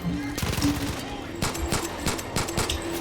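Gunfire in the shooter game Far Cry 5, with sharp shots and short bursts breaking out across the clip, some closer and louder than others, under excited voices talking.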